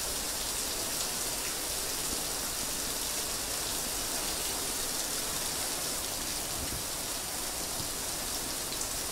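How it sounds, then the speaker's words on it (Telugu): Heavy torrential rain pours over Hyderabad, a dense, continuous roar of water that stays loud and unbroken throughout, with no voices. "హైదరాబాద్ లో వర్షం దంచి కొడుతోంది"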